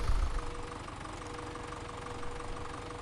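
A tractor engine in Farming Simulator 17 runs at a steady, moderately loud idle hum with a faint knocking throb, alone with no talk.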